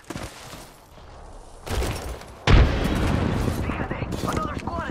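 A grenade explodes in the shooter game Apex Legends: a sharp, loud boom bursts in after quieter gunfire and clatter, then trails into a long crackling rumble.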